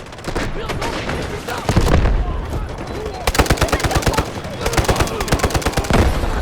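Rapid bursts of automatic gunfire from a P90 or AKS74 in Delta Force Mobile, loud close sharp repeated shots in several strings with short pauses, while a player talks between bursts.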